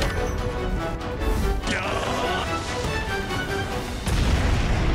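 A bomb blows up in the video game Monster Hunter Stories 2 with a loud, heavy boom and crashing impact, layered over dense game sound effects and music.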